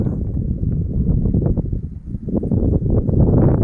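Strong wind roars steadily into the microphone on a winter night in Ulsan, Korea, a dense low rumble with gusty surges and buffeting throughout.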